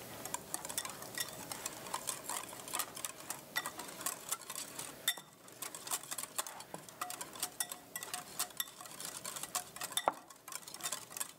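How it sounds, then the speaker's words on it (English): Whisk beating a fish taco marinade of white pepper and a pinch of salt in a bowl, quiet rapid ticking clicks against the bowl in an uneven, continuous rhythm, close and alone without talking. "Add a pinch of salt. Whisk until combined."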